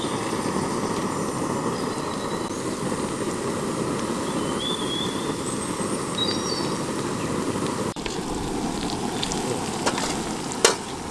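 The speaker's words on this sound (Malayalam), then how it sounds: "ഈ ഇഞ്ചി വെളുത്തുള്ളി പേസ്റ്റ് ഇട്ട് കഴിഞ്ഞാൽ പിന്നെ ജസ്റ്റ് നന്നായിട്ടൊന്ന് ഇങ്ങനെ ഇളക്കി കൊടുക്കണം." Ginger garlic paste and onions fry in a pan with a steady, dense sizzle that fills the clip, while occasional light scrapes and clinks of a stirring utensil sound near the end.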